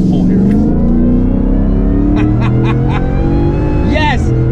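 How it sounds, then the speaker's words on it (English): Second-generation Ford Raptor with a V8 engine revving hard as the truck pulls away off-road, a loud, close, rising engine roar with a brief burst of gear-shift revs near the end. "Yes, this is what a second gen Raptor should sound like."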